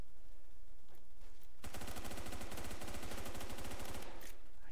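Automatic weapon fire in the Roblox shooter Phantom Forces bursts out as a long, loud, rapid string of shots lasting a couple of seconds. Quieter game ambience runs before and after the burst.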